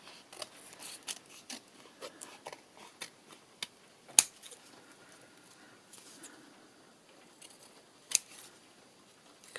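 Several crisp snips of scissors trimming book pages for a journal, close by, with quiet rustling of paper between the cuts.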